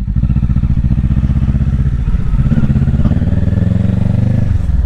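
Kawasaki Ninja 650 motorcycle ridden on the road, its engine droning steadily and loudly throughout with dense low rumble and some clatter, no talking.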